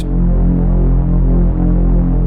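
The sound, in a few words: synth bass with reverb effect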